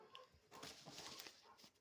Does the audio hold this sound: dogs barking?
yes